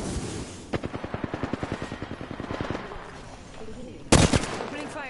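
Rapid automatic gunfire from an Apex Legends match, a steady burst of shots in even rhythm for about three seconds, then a loud sharp blast, with game voice lines over the shooting.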